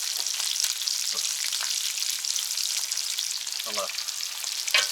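Meat sizzling steadily in a pan on a stove inside a winter fishing tent, a loud continuous hiss with a few clacks of stirring and handling, close by and without speech.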